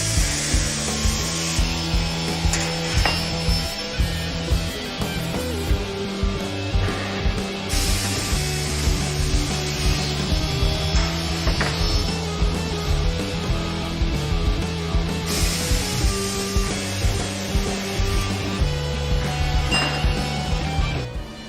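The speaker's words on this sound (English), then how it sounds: "Now we've sawn the extrusion," In a clamp factory, a power saw cuts aluminium extrusion for Doughty Slimline Quick Trigger Hook Clamps, giving a continuous rasping cut broken by regular rhythmic pulses and light metallic clinks, close and fairly loud.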